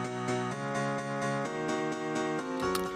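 A piano plays only sustained chords, changing roughly every half second in a steady rhythm, loud and close with rich harmonics and no talking, as part of a dance track drop.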